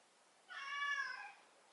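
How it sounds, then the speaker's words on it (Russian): A cat gives a single plaintive, drawn-out meow, rising and falling over about a second against near silence on a seaside holiday on the Costa Brava. "Вот, приблизительно вот так она мяукает. Вот жалобно так."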